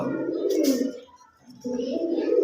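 Pigeons coo close by in two soft, throaty phrases separated by a short pause.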